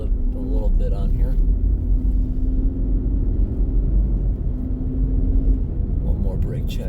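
A car rolls and brakes on a snow-covered road on studded tires, giving a continuous low road rumble with faint tire noise. A person talks quietly over it.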